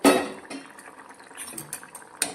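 A pot of Gujarati potato curry is stirred with a metal spoon, giving a scrape at the start and scattered light clinks and scrapes against the pot over soft bubbling.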